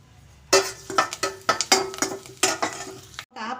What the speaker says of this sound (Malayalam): ഇനി കറിവേപ്പില ഇട്ട് കൊടുത്ത് അത് മൂപ്പിച്ചെടുക്കാം